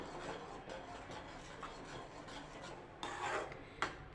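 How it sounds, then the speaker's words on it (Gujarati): A thickening sweet carrot mixture is stirred continuously in a pan, giving a close, steady scraping and rubbing sound that grows louder in the final second. "પછી આપણે બે મિનિટ માટે સતત હલાવીને થવા દઈશું"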